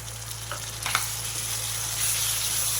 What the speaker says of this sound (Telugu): ఇప్పుడు కట్ చేసి పెట్టుకున్న టమాటాలు వేసేసుకుంటా